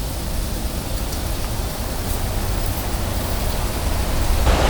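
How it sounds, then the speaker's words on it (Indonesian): Heavy rain pours down outdoors in Nganjuk, East Java, a dense, steady broadband roar that swells slightly toward the end, with no voices. "Langsung hujannya gede."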